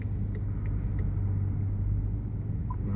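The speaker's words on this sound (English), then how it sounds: "the car is backing up by itself" A 2015 BMW X5 reverses on its own under the parking assistant, heard from inside as a steady low road and engine rumble with a faint tick or two, no talk.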